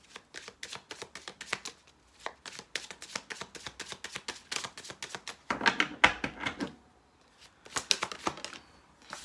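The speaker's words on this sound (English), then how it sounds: "3 shuffles for Pisces." Tarot cards are shuffled in quick, riffling flutters, several rounds with short pauses, close and soft.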